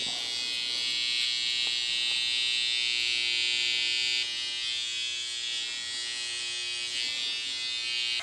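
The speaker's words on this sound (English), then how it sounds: "You're using your left hand to bring the hair down and work the hair into the clipper" An electric hair clipper buzzes close and steady while trimming a beard guideline, a continuous high whine that dips slightly in pitch midway as it meets the hair, with no talking.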